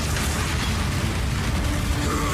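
Dense explosions in the Path of Exile video game, a continuous loud crackling and booming wash of bursts with rumbling lows and no clear gaps, no speech.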